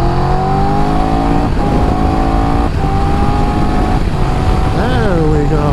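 Triumph Tiger 1200 GT Pro motorcycle engine on the Autobahn, loud and close, holding a steady drone, then climbing in pitch as it revs hard after a downshift to third gear.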